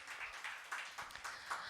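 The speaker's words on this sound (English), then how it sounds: "Can we welcome them on the stage with a huge round of applause?" Audience applause welcoming guests onto the stage at a civil service panel event, a steady wash of clapping from a crowd, moderately loud with faint swells and no talk over it.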